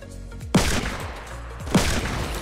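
Two sharp, loud bursts of submachine gun fire ring out in a Fortnite match, about a second apart, each dying away into quieter background game noise.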